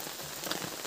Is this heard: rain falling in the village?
yes